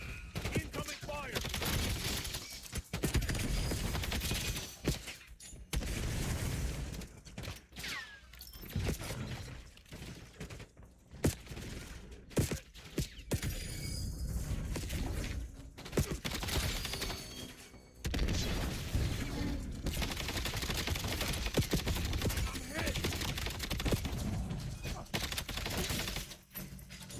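Sustained heavy gunfire and explosions in Call of Duty Black Ops 7, loud and dense with near-continuous bursts, brief lulls and booms, with voices talking over the fighting.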